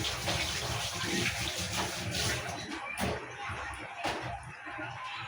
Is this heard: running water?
yes